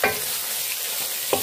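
Half a kilo of chicken keema frying in a pan for a cauliflower keema dish gives a steady, close sizzle, with a couple of brief stirring scrapes at the start and end.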